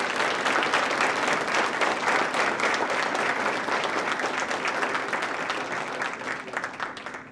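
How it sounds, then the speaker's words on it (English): An audience at a school appreciation reception claps steadily in a dense, sustained round of applause for students that gradually tapers off toward the end. "let's first begin by acknowledging our students and give them a round of applause"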